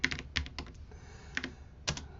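Computer keyboard typed on in short bursts as a terminal command is entered, several crisp close keystrokes clustered in quick groups with brief pauses between them.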